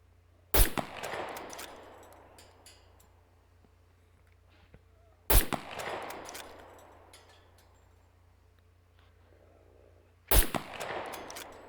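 .22 rifle shots in the SCUM game, three sharp cracks spaced about five seconds apart, each leaving a short ringing echo that fades before the next shot.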